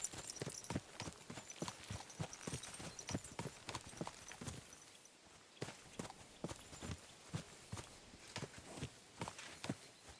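Hooves of a horse in Kingdom Come: Deliverance 2 clip-clop in a steady walking rhythm, close and crisp over faint background ambience, pausing briefly before resuming.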